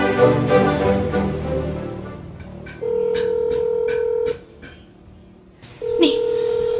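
Telephone being dialed: a run of short keypad beeps in quick succession, followed by a steady tone, a pause, and another tone, coming after a stretch of background voices.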